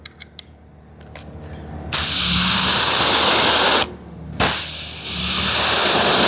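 A Ryobi 1.8 GPM pressure washer blasts through a 15-degree nozzle, a loud steady roaring hiss that cuts off briefly, restarts, then runs on, with a faint engine hum beneath.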